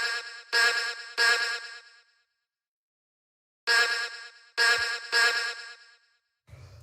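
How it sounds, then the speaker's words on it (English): A short chopped vocal stab sample from a house track plays alone in two bursts, each a pair of quick bright stabs with a trailing echo, separated by a gap of silence. "So yeah, then we've got this little vocal stab, which sounds like this."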